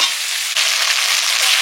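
Spice paste frying hard with a little water in a pan, a loud, close, continuous hiss and crackle with a brief dip midway as it is stirred, no talk.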